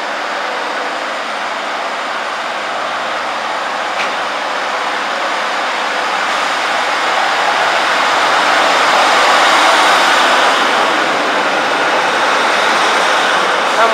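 A train passing through Lincoln Central station, a steady broad rumble that swells slightly toward the middle and holds loud and close for the whole stretch, with no voices.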